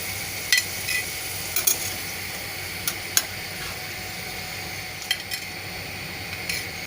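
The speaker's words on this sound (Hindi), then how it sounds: "अब इसमें आलू को डाल देंगे फ्राई होने के लिए।" Potatoes frying in hot oil for an aloo parwal dish give a steady, soft sizzle with a few brief spatters and pops, heard alone without talk.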